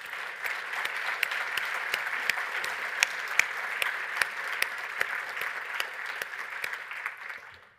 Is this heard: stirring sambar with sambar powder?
no